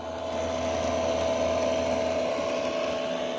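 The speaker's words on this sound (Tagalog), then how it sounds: "electric water pump" Electric water pump running steadily on a Philippine rice farm, a constant loud mechanical drone with a humming motor tone and broadband rush, unbroken throughout with no talk.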